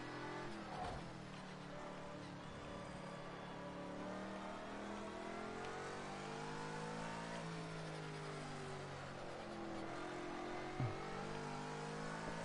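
A McLaren GT3 race car engine drones at Nürburgring in a racing video game, rising and falling in pitch as it revs and slows, a steady mid-level engine tone throughout.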